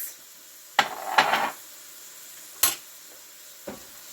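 Chicken and rice with tomato sauce being stirred in a pan: a few separate scraping, sloshing strokes with short quiet gaps between them, close by and with no talking.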